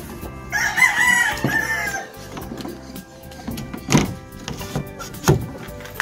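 Chickens sick with fowl cholera, with swollen faces and colds, cluck and crow close by in short bursts, with a few sharp knocks and rustles around them.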